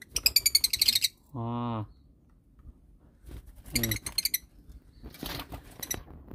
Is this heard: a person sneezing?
no